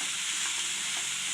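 Chopped bottle gourd is stirred and sautéed in a hot pan for a gourd gravy, giving a steady, loud, close hiss of frying with soft scraping from the stirring and no talk.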